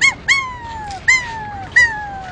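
A person imitates a dog with their voice, giving four short yelping, whining cries in a steady rhythm, each a high bright yelp sliding downward, close and clear with no other talk.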